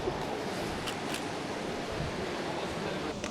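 Wind buffets the microphone on a London street, a steady roaring rush throughout with a few faint higher taps over it.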